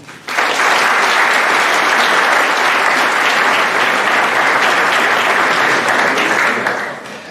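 Audience applause at an athletic awards night: a dense, sustained round of clapping that starts abruptly, holds steady and loud for several seconds, then begins to thin out at the end.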